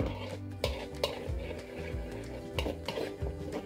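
A spoon stirs batter mixed with water in a bowl for Gobi Manchurian, giving close, rhythmic scraping and clinking against the dish.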